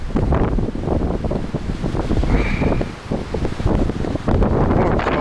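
Strong seaside wind buffets a camera microphone on a cold January day on the Alanya coast, a loud, continuous roaring rumble with gusting surges from start to finish, joined by a faint background hiss of surf.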